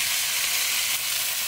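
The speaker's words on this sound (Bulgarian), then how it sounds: "един брой рибка на грил тиган, да видим как ще се получи" Thick fish sizzles in a grill pan, a steady bright crackling hiss of frying that runs continuously and fairly close, with no talk over it.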